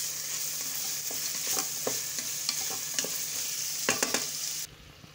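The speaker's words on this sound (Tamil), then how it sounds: "இப்போ நல்லா இது எப்பையும் போல நல்லா மிக்ஸ் பண்ணிக்கலாம்." Carrots and beans stirred in a hot pan for vegetable rava kichadi, a gentle sizzle with repeated scraping strokes of a spoon, scattered clinks, no talk, ending abruptly.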